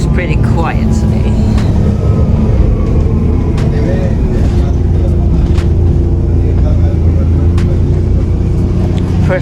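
A city bus drives along on a cheap sightseeing ride in Holland, its steady low engine rumble and road noise filling the cabin with faint rattles, while passengers talk quietly over it.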